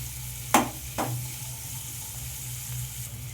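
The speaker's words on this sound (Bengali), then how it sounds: "ভেজ ডালের জন্য ঠিক এইভাবে ভেজে নেবেন সবজিগুলো।" Mixed vegetables and peas fry in a wok for veg dal: two sharp utensil knocks come early, then a soft, steady sizzle of stirring continues alone.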